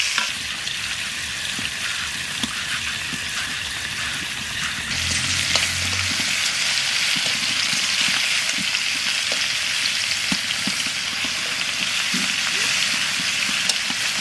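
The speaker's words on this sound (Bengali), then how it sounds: "মেথি টপিতে একটু ভাজবো আর তুলে দেবো" Fenugreek leaves fry in a pan with a soft sizzle that jumps louder after a few seconds, joined by scattered clinks and scrapes of stirring throughout.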